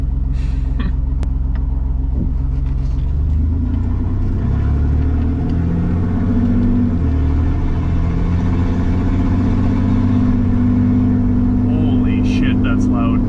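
A Chevy S10 truck with a cheap side exit exhaust, its muffler removed, revs loudly and close, a deep aggressive rumble rising and falling over steady idle.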